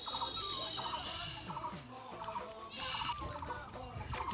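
Two goats at a rural home bleat repeatedly, with chickens clucking nearby and a voice now and then in the background.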